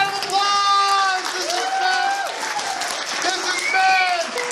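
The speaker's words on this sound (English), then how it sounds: "Give him a round of applause!" Audience applause and cheering at a charity event at the AnthrOhio 2023 furry convention, a steady crowd roar throughout, with a person speaking loudly over it.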